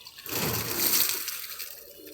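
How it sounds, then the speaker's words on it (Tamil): Collected rainwater is tipped out in a single splashing gush that swells and fades over about two seconds, close by. "மழை தண்ணியை ஊற்றிடுவோம்"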